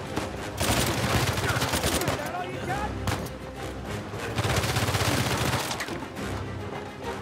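Gunfire aimed at an armored enemy in Uncharted 4, dense rapid bursts of shots and impacts layered with combat effects, loud and sustained, with a voice speaking over parts of it.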